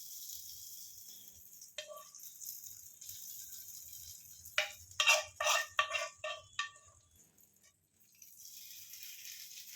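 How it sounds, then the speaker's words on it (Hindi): Hot tempering poured into a pot of spicy UP-style kadhi, giving a burst of loud crackling sizzle and rattling spatter that rises sharply and fades into a low simmer. "अब हम इससे जो है कढ़ी में छौंक लगा देंगे"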